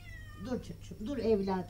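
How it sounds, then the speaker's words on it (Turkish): A cat meows repeatedly at close range, its calls rising and wavering, while someone speaks over it in a Turkish household scene. "Nereden buldun o kediyi anne?"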